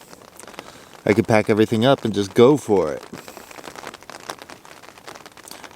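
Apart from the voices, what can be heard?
light rain falling on a tent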